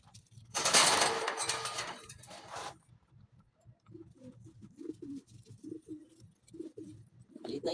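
Soft, low cooing of pigeons repeating in a gentle rhythm, following a brief burst of rustling or flapping noise near the start.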